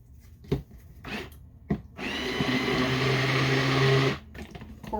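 An electric stick blender whirs steadily for about two seconds as it mixes kaolin clay into olive oil for soap, preceded by a few short knocks and handling sounds, then stops abruptly.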